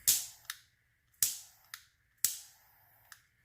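A handheld torch is fired three times at alcohol ink on a tumbler; each firing is a sharp whooshing burst that fades, followed by a small click, close by and with no talking.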